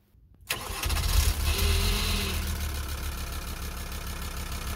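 Volkswagen LT/T4 2.5 TDI diesel engine, after injection pump timing, cranking briefly and then catching and settling into a steady, close, rumbling idle.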